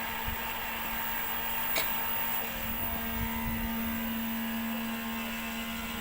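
The Ingenuity helicopter demonstrator's rotors spin up at takeoff during a rover exhibition at the Cité de l'espace in Toulouse, a steady close whirring hum with a constant tone that runs throughout at even loudness.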